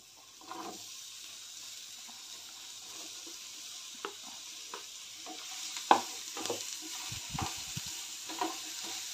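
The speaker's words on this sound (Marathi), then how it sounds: "आता यामध्ये आपण दोडका बारीक चिरून घेतलेला दोडका आहे तो भाजून घेऊया." Finely chopped ridge gourd frying in a small amount of oil, giving a soft, steady sizzle with scattered clinks and scrapes of a spatula stirring in the pan, no voices.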